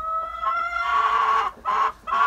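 A new blue-egg-laying Ameraucana hen clucks up close in a coop, with one drawn-out call followed by two short, sharp clucks.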